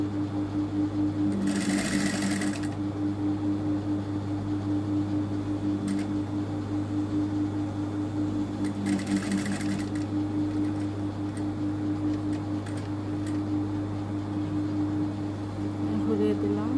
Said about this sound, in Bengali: চাইলে চেনটা এভাবে বন্ধ করেও সেলাই করতে পারি।